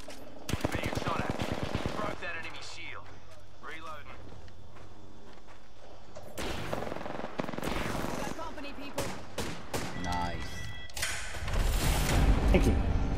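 Gunfire in an Apex Legends arena match, bursts of rapid shots crackling through the whole stretch, mixed with impacts and footsteps, while a player keeps talking over the action.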